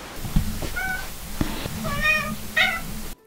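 A cat meows three times in quick succession, short rising calls of growing strength, close by and clear over faint room noise and soft thumps.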